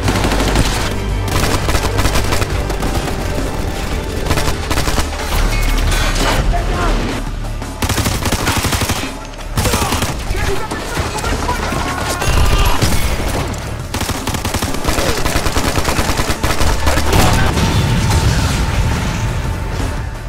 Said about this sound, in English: there's a final scene in the film that comes into a big firefight